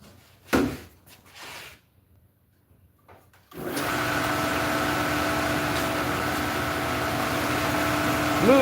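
A blue surface conditioner spins up on a kukri blade: a few clunks and quiet handling first, then a motor starts abruptly and holds a steady, loud, close whirring drone to the end.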